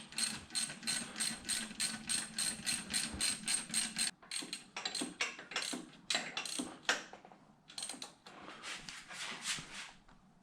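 Ratchet wrench clicking steadily in long, rapid runs while backing out a lengthy bolt on a Jeep TJ 4.0 alternator, with short pauses between bursts of close, crisp ratcheting.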